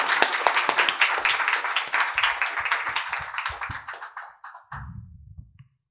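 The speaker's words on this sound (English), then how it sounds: "Please join me in a round of applause" A conference audience at an Arctic development panel breaks into dense, steady applause that thins out and stops after about five seconds, leaving a low murmur.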